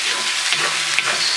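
Chicken hitting hot oil in a wok gives a dense, close sizzle with a few small pops, steady for a brief moment and with no voice over it.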